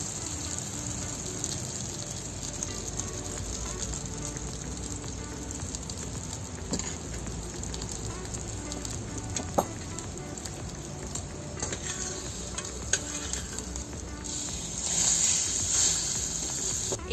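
Bread slices fry in butter in a pan, turned to brown both sides, giving a steady, low crackling sizzle that runs continuously with a few faint clicks and a brief louder hiss near the end.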